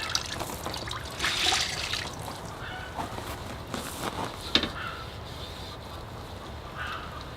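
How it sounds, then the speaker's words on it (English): A pane of window glass for a greenhouse is washed with soap and water, giving wet sloshing, trickling and dripping sounds close by, with a brief louder splash partway through and speech-like sounds mixed in. "next I've got to wash it with soap and water and then dry it off"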